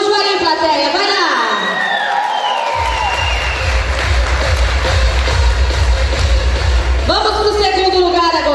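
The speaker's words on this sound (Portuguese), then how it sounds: "Aplausos pro Araújo aí," A festival audience at a music contest in Umuarama cheers and applauds a singer named Araújo, the crowd noise loud and continuous under excited shouting and talk, with a sustained musical tone swelling in the middle.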